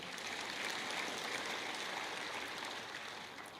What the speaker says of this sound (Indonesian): kasih tepuk tangan yang meriah buat Tuhan